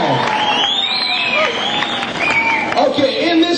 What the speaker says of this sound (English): Big round of applause. Let's hear it.